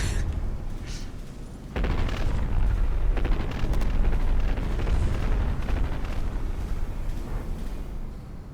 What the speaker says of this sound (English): Kind of fun, the little artillery barrages going out from this thing